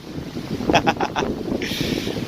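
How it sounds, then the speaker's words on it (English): Wind gusts buffet an outdoor microphone, a broad rushing roar that swells and eases steadily throughout with no speech. "So we'll let the wind pass for a second, right?"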